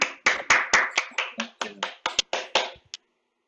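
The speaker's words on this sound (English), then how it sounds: "invite everybody to unmute yourselves so we can applaud for our speakers today" Scattered clapping from a few online meeting participants over unmuted microphones, a quick burst of about a dozen distinct, close claps that taper off and stop before three seconds.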